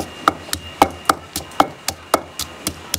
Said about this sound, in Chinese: 蒜粒我们先剁